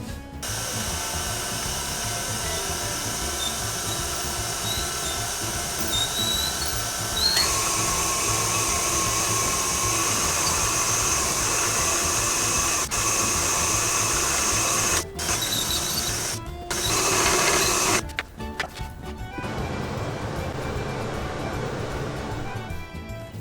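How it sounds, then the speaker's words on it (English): KitchenAid stand mixer running with its pasta attachment, a steady whirring motor hum with high mechanical whine that shifts pitch partway through and breaks off briefly near the end. "Pasta attachment to the KitchenAid, but you can use whatever you have to make the pasta."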